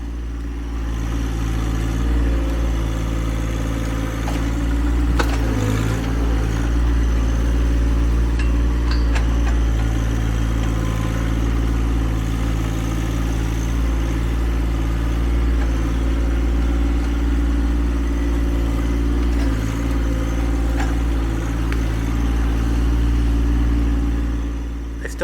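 A John Deere 1025R compact tractor runs while clearing brush, a steady low engine drone with occasional knocks and bumps over roughly twenty-five seconds.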